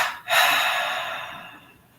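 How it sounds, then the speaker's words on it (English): A single breath pushed out through the mouth, close and soft but clear, sets in after a brief pause, with an airy rush that slowly fades over about two seconds, alone with no speech. "Exhale through the mouth."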